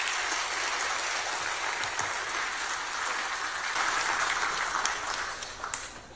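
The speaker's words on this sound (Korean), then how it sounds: "우리 감사하는 마음에서 함께 박수로 맞이하겠습니다." A church congregation applauds to welcome the pastor to the front, producing a sustained, even wash of clapping that tapers off into a few last claps near the end.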